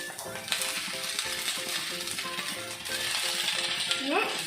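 Semiya vermicelli sizzles and fries in a pan for upma, a steady crackling hiss with stirring scrapes and light clinks from a utensil, close and moderately quiet, with no voice over it.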